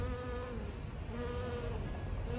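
A bee buzzes in a steady, close drone with a faint wavering pitch throughout a short educational Keynote animation about pollination, with no talking.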